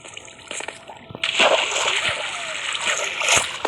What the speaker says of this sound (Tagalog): Pwede ka lang tumakbo-takbo din sa tubig.